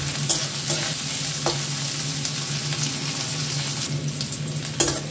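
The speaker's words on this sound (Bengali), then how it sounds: "পেঁয়াজটা একটু ভাজা ভাজা করে নিয়েছি" Onions sizzle steadily in hot oil in a pan for a bread roll snack, with several close scraping stirring strokes cutting through the continuous crackle.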